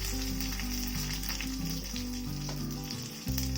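Loud, continuous sizzling as curry leaves and asafoetida hit hot oil for radish sambar, crackling without pause over a low, steady background tone.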